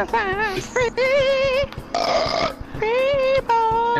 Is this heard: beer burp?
yes